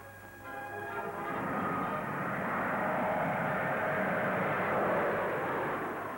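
A Vickers Viscount turboprop airliner's engines give a steady, fairly loud drone with a whining tonal edge that builds and holds as it runs, captured on an old archival recording.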